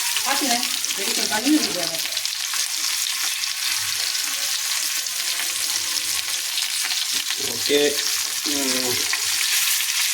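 Fish frying in a pan gives off a steady, close, loud sizzle throughout, with brief stirring and clinking sounds now and then.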